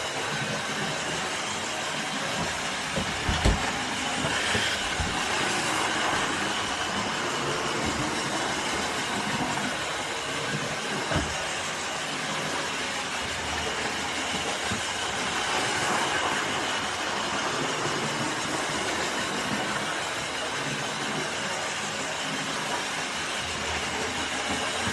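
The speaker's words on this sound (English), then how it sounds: "just watch the train go round up there" A Hornby GWR Hawksworth County model train running round its track with a continuous rolling rumble and faint rail clatter, heard from a moderate distance with no talking.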